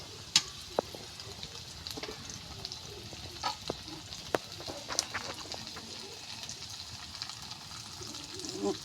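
Onion and spice paste fries in a pot for a chicken curry with taro, crackling and sizzling steadily with occasional scraping stirs.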